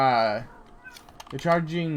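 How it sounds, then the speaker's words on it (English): A pet cat meows twice indoors, close to the microphone, with a short gap between the drawn-out cries and a quiet room behind them. "Oh my god, my fucking cat."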